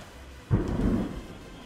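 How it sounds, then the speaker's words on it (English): Thunder rumbles in from a distance: a single deep, rolling boom swells suddenly, holds for about half a second, then fades slowly against a quiet background with no talking. "that is thunder that you guys hear"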